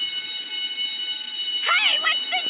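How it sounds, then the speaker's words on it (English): A store's security alarm sensors by sliding doors blare in Batman: The Animated Series, a loud steady high electronic tone that runs throughout while a voice protests over it near the end. "whatever those little alarm sensors are by the sliding doors. They start to go off"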